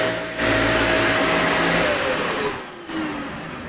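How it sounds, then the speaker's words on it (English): A full-size vacuum cleaner powered by a 12V 100Ah Dr. Prepare LiFePO4 battery roars steadily close by, its whine dipping briefly near the end as the motor falters before catching again. "Can this Dr. Prepare 12-volt, 100-amp-hour battery run a full-size vacuum cleaner."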